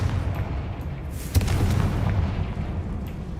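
A Confringo fire spell bursts in Hogwarts Legacy, a brief explosive crack followed by a rumbling, crackling boom over a continuous low game background.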